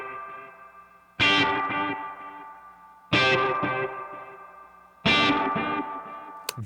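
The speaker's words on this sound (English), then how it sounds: "You can really hear it diving with that wow and flutter, which is cool." Distorted electric guitar run through a Space Echo tape delay, three strummed chords about two seconds apart, each ringing out with warbling wow and flutter and decaying echoes.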